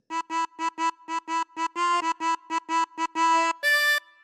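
A harmonica plays a phrase of a theme as a run of about fourteen short, clean repeated notes, steady and evenly spaced, ending on two longer held notes with nothing in the background.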